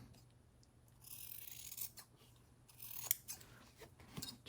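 Scissors snip and trim paper for a handmade no-sew accordion junk journal, making crisp close slicing strokes in several quick bursts against a quiet room.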